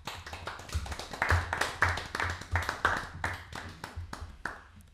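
Applause from a small audience of French talk-show viewers in a studio, a handful of distinct hand claps with some rhythmic, near, moderately loud, fading slightly toward the end.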